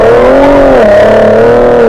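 A Ford Raptor truck with an SPD trombone exhaust accelerating hard in sport mode, a loud, close, droning engine note whose pitch climbs, dips at a shift, then rises again.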